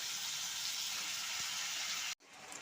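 Bombay duck (lote) fish pieces go into a hot pan of cooked-down spice paste, producing a steady, loud frying sizzle close up that cuts off abruptly near the end.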